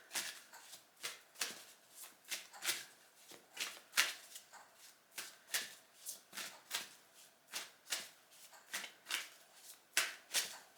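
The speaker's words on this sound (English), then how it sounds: "Let's keep shuffling." Tarot cards are shuffled by hand in a quick, regular run of crisp riffling bursts, about two per second, soft and close with no voices.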